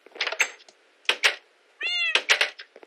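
A Minecraft cat meows three times in short, close, clear calls with brief pauses between them, with no talk over it.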